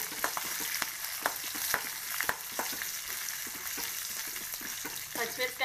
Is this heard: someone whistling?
no